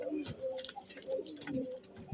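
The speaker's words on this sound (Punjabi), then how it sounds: "ਟਾਂਕੀ ਵਾਲੇ ਕਬੂਤਰਾਂ" Tankiwale pigeons coo in soft, repeated low calls close by, with a faint bird chirp and light background noise between them.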